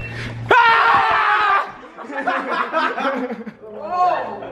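A group of friends lets out a sudden loud, sustained shriek together to scare someone during a Ouija board game, then breaks into laughter and excited chatter.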